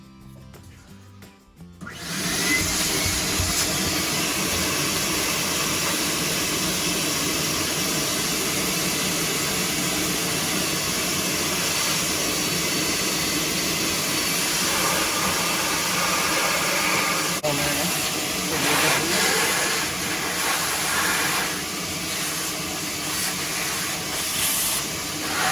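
A shop vac starts up and runs steadily, roaring and hissing loudly as it sucks debris out of a Dyson Ball DC40 Animal vacuum, with the airflow shifting slightly partway through and no speech.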